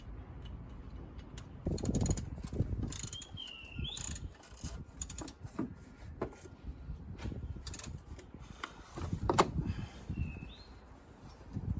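A ratchet tightens the belt tensioner fixing bolt on a Mercedes 190E 2.0 (W201, M102 engine), giving bursts of quick clicks with clanks and handling knocks, close and fairly quiet, with faint bird chirps in the background.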